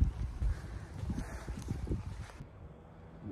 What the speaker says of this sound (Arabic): ذاك الحصان طبعا هناك، ذاك الكبير وحلو أكثر